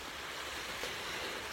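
Rushing, steady water flowing near a broken plumbing part in a home, a broad continuous wash of noise with no pauses or voices.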